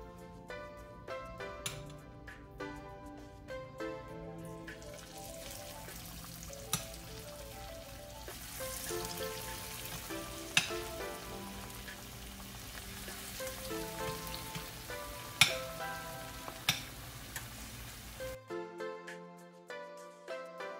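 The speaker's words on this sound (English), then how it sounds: "Now it's time to fry our fish ball." Tuna fish balls fry in hot oil with a soft, steady crackling sizzle and occasional sharper pops, partly under background music, fading out near the end.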